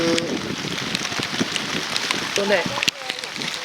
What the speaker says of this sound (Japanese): この通り大雨。